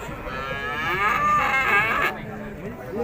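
A cow lows in a long, drawn-out moo at a busy cattle market in Urzhar, heard close against steady crowd murmur and outdoor background noise.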